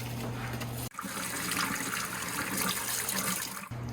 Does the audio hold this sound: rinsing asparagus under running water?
yes